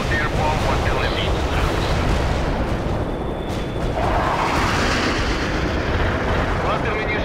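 A fuel-air bomb detonates in the real-time strategy game World in Conflict, heard as a continuous loud, dense rumbling roar with a gusty, wind-like wash that holds steady throughout, with no one talking.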